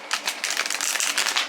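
A very thick, stiff tarot deck being shuffled, giving a steady run of papery riffling and flicking card noise up close, with no talking.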